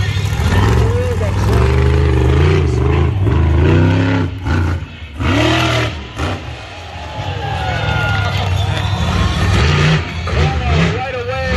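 A monster truck engine revs loud and close at a Canadian show, surging in repeated bursts with brief drops, while an announcer talks throughout.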